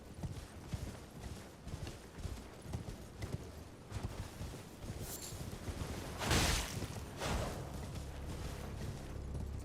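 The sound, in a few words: horse (steed) galloping hooves in the video game Elden Ring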